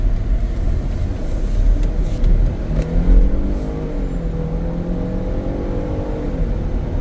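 Twin-turbo 365 hp all-wheel-drive Ford Police Interceptor Utility accelerating onto a highway, heard from inside as a rising engine drone with audible gear shifts over steady road and wind noise.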